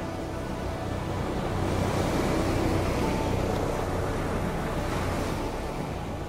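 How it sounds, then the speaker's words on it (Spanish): Sea waves breaking against a sandy beach beside a wooden beach shelter, a steady loud roar of surf with gentle swells, slightly buffeted by wind on the microphone. "La madera sobre la arena, el quincho, están contra el mar, entonces se escucha este sonido."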